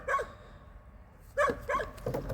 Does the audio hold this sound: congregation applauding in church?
no